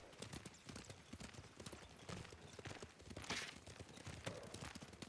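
Horse hooves clip-clopping in the video game Ghost of Tsushima, a steady rapid rhythm of close hoof strikes with faint rattling tack, continuous throughout.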